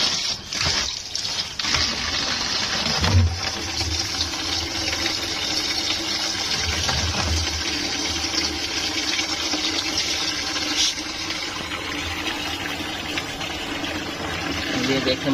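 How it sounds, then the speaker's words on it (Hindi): Water pours into a repaired water tank at home with a loud, continuous gushing rush and bubbling that stays strong throughout, while someone talks over it. "अभी हम इसमें पानी भर के देखते हैं कि अभी लीक तो नहीं"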